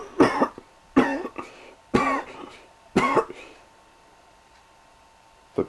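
Four hoarse coughs in an even rhythm, about a second apart, close and fairly loud, followed by quiet.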